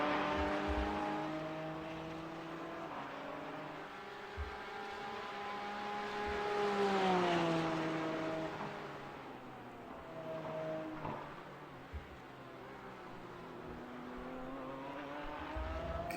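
Race cars lapping the Sebring track in the iRacing video game, engines droning and rising and falling in pitch as cars accelerate and pass, a continuous layered whine with no voices.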